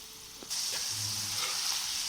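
Sweet corn kernels frying in a pan over a medium flame, a steady hissing sizzle that swells in after a brief quieter moment and continues close and even, with faint stirring clicks.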